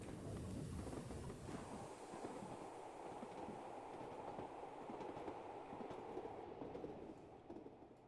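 Coaches pulled by an LNER Class A4 steam locomotive roll along in the Train Simulator 2020 game, a steady rumbling clatter of wheels on track, loud and continuous before easing off slightly at the end, with no talk.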